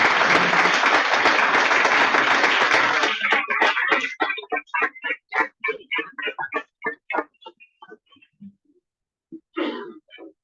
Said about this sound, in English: Fellow Rotarians, please stand and applaud these